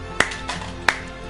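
A few sharp, sparse claps ring out one after another in the video game Child of Light, close and fairly loud, with quiet background hum between them.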